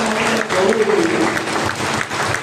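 A church congregation applauding at a worship evening, with a dense, steady wash of hand claps throughout while a voice speaks over it.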